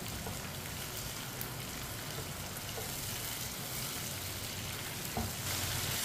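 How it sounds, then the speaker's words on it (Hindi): Tomatoes cooking in a hot pan for lobia, a continuous loud sizzle with occasional scraping and clinks as a spoon stirs them, no talking. "इसे ऐसे ही चम्मच चलाते हुए पकाना है।"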